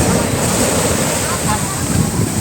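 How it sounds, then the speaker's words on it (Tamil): Ocean surf at Chavakkad beach in Kerala roars steadily and loudly, a continuous wash of breaking waves mixed with heavy wind buffeting the microphone. "நான் பேசுகிறதோட இந்த அலையோட சவுண்டு அதிகமாக கேட்கும்னு நினைக்கிறேன்"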